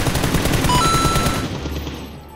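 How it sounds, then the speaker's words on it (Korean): Rapid automatic gunfire from a first-person shooter video game, a dense burst of shots that fades out after about a second and a half, loud and close with no talking. "어머 이 오빠 너무 잘 쏜다."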